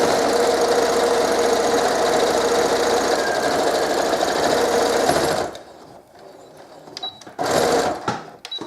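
A sewing machine runs steadily and close up, stitching quilting lines across a scarf, then stops abruptly partway through, leaving quiet handling noises and a brief restart near the end.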